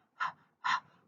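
A person's voice imitating a dog's rapid huffing or panting, two short breathy puffs about half a second apart, close and clear with no talk.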